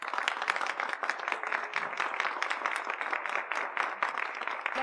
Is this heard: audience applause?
yes